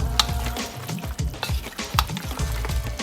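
Chili sizzles in hot ghee in a pan as it is stirred, giving a steady crackling fry broken by scraping strokes and light pan knocks, close up.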